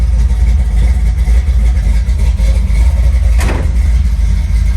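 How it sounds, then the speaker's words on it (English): A car engine idles steadily in a garage while warming up, with a low, even rumble, loud and close, with no talking. "let these exhaust fumes out of the garage while she warm up"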